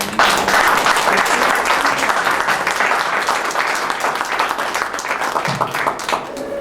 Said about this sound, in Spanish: pedirles a ustedes un caluroso aplauso